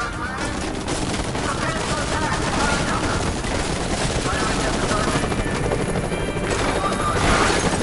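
A helicopter's loud, constant rotor roar in the video game Deadlight, mixed with bursts of gunfire throughout and no clear talk over it.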